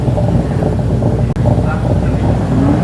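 A TVR sports car at the Shelsley Walsh hill climb gives off a deep, rumbling engine burble, steady and fairly close throughout a short burst.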